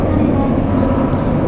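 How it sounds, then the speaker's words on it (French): A late-night Tokyo subway train rumbles along in a steady, close, continuous roar with a faint rattle throughout. No other sound stands out above it. "on est dans le dernier métro qui pourra pas nous ramener jusqu'à chez nous"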